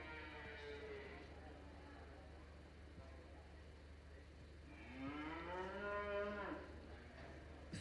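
Breeding heifers at a county beef show moo in the show ring, with one long low call near the start and a louder drawn-out moo later, heard over a steady indoor background hum while a voice speaks.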